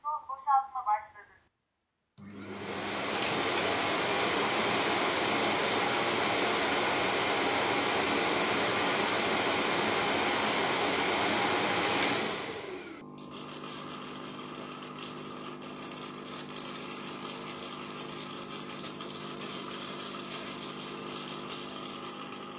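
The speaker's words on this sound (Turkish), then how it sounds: "Otomatik toz boşaltma başladı." The base station of a Dreame D20 Ultra robot vacuum kicks on to auto-empty its dust, a loud steady roaring suction that runs for about ten seconds, then drops to a quieter, steady hum.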